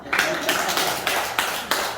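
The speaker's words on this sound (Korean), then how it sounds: "이분한테 박수 한번 쳐줘도" Applause from a live audience at a Korean talk or sales seminar, bursts of clapping rising and falling in several quick swells over a couple of seconds, fairly close and loud.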